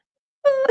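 A human voice imitates a child whimpering: a single short, tremulous wailing moan, close and alone.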